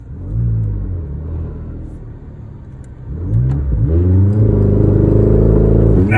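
A 2020 Ford Mustang GT500 launches on a drag run, its engine rumbling and revving, dipping briefly, then surging into a loud, sustained climbing roar up close with no voices.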